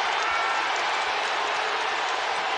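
Texas Tech home crowd at a college basketball game against Texas roaring and applauding after a three-point shot, a steady loud wash of cheering that fills the whole moment.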